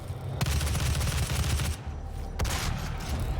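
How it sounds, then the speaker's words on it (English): Sustained rapid gunfire in the video game DOOM (2016), loud and dense, continuing almost unbroken over several seconds with a brief lull and sharp restart, as enemies shoot at the player. "What is shooting at me?"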